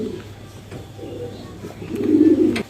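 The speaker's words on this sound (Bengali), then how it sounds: "এই যে এখানে চমৎকার কোয়ালিটির একজোড়া শাটিন কবুতর আপনারা দেখতে পাচ্ছেন" A pair of satin pigeons coo softly, with a fuller, louder coo near the end, over faint background noise.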